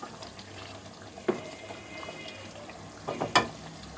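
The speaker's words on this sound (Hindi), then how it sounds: "अब हम इसे अच्छे से भूनेंगे।" Chicken shahi korma, degi style, being fried and stirred in a pot with faint sizzling throughout and a few louder scraping stirs near the end.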